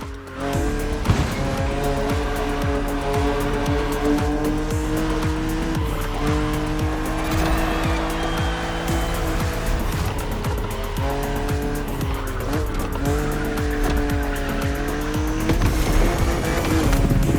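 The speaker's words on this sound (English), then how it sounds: "Your car is the Z4 E89, a very cool model for two major reasons." A BMW Z4 E89 coupe cabriolet drives in The Crew Motorfest racing game, its engine note rising and shifting through gears with tire squeal and game music layered over it, loud and continuous throughout.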